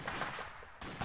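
Short bursts of gunfire in the tactical shooter ACE Insurgency, a couple of sharp crackling volleys fairly near and moderately loud, separated by a brief gap.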